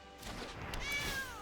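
A single short cat meow rings out as a cat squad is summoned in a Magic: The Gathering War of the Spark card game, a rising, clear game sound effect with no talk.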